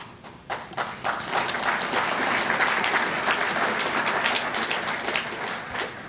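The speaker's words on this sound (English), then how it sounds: "Is that applause started by Keith Woods?" An audience at a State of the County 2016 address applauds in a dense, sustained burst of many clapping hands that swells quickly and holds steady, with only a slight dip near the end.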